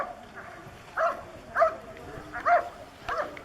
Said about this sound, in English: This is a noisy dog.